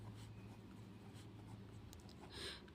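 Pen scratching across paper during a class 6 maths lesson on perimeter and area, soft and close with a continuous low hum underneath and brief brighter strokes toward the end.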